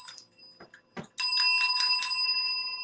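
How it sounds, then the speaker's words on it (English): After a few soft taps, a small bicycle-style bell rings out in quick repeated dings, bright and close, then lingers. "Where's my bell?"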